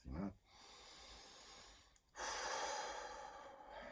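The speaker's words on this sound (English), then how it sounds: "First breath, just a breath" A single slow breath drawn in and let out during a guided group breathing exercise, soft and close, with a short pause before a longer airy exhale; no talk over it.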